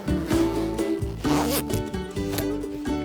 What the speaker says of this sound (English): All you have to do is zip it up.